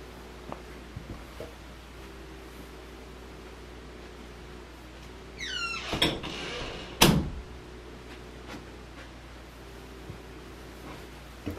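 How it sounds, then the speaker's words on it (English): A squeaky door swings shut indoors: a quiet room, then a rising, high-pitched hinge squeal followed a moment later by a sharp thud as the door closes, with quiet room tone before and after. "Very squeaky door I have."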